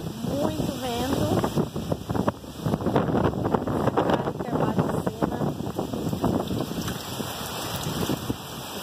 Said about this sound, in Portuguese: O vento tá extremamente forte agora.